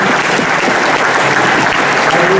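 Loud, dense applause from an audience at a local public meeting in Bronzolo/Branzoll, a continuous roar of clapping hands filling the whole moment with no pause.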